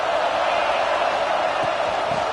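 A stadium crowd at a football game sends up a continuous broad roar of cheering and noise, steady and loud across the whole stretch.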